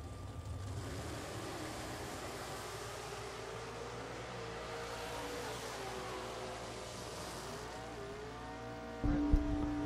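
Roadster Corvette on an eighth-mile drag strip, a distant sustained engine drone rising and shifting in pitch, heard through a steady wash of wind and crowd noise, with a louder thump near the end.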